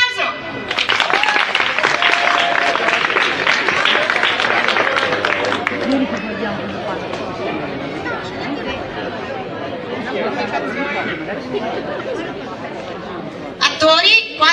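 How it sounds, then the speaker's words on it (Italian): Applause from an audience at a final theatre course performance in an Italian town, a dense burst for several seconds that fades into crowd chatter and murmuring voices. "Un applauso."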